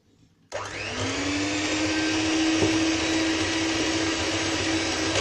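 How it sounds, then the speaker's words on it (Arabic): An electric hand mixer whirs steadily as it beats eggs for a savory Italian magic cake. The loud motor starts abruptly after a brief quiet moment and then holds an even, continuous drone with no voices. "راني وجدت الباتور، نطلعوا البيض تاعنا، نطلع البيض"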